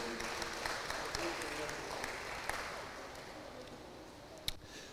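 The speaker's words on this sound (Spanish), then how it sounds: "Dale un fuerte aplauso al Señor" Church congregation applauding during a Wednesday evening service, a continuous wash of clapping at moderate level, with voices mixed in and a sharper clap near the end.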